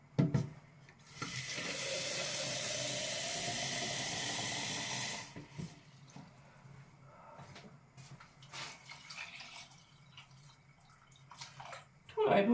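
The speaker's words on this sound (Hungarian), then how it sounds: "És még öntök hozzá vizet." Water runs from a tap in a steady, loud rush into a pot of lentil soup for about four seconds, then stops, leaving faint kitchen clatter and small knocks.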